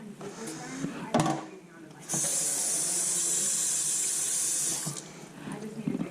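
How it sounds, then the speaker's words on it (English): Cooked low-carb fettuccine drains in a kitchen sink, a steady loud rush of pouring water and hiss lasting a few seconds, framed by clanks and knocks of the pot before and after. "I'm gonna pretty much just strain it in the sink"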